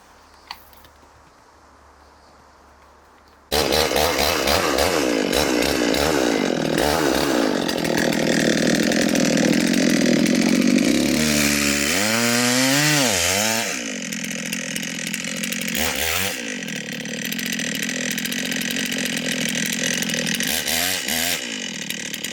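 A chainsaw fires up after a quiet start and runs loud and close while cutting into a tree, its engine pitch dipping and rising as it bears into the wood.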